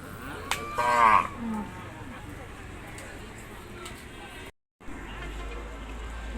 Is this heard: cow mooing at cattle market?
yes